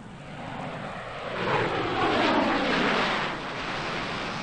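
An F-111 jet aircraft in flight roars as a loud broadband rush, swelling toward the middle and easing off, with no talk over it.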